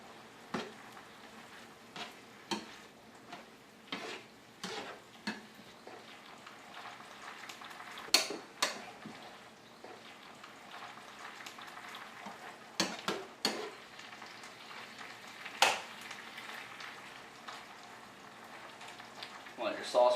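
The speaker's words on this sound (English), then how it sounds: "now we're going to go in with our sauce mixture. We'll let all this cook together for just a few more minutes." Lo mein noodles cook together with a sauce mixture in a pan, giving a quiet bubbling sizzle with intermittent scraping stir strokes, heard mostly without speech.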